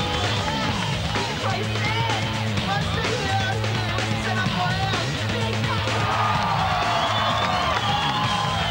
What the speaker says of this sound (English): crowd's really loving this street section.